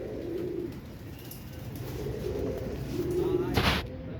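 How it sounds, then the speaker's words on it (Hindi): Soft low cooing from a young female Imam Deen pigeon, a few murmured coos repeating close by over steady background noise, with a brief louder rustle near the end. "बहुत अच्छी कबूतरी है माशाल्लाह।"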